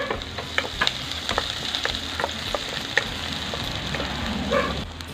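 Onion, ginger and garlic frying in hot oil for beef skin balbacua, a dense continuous sizzle with scattered stirring clicks, fairly loud and close, and no voices.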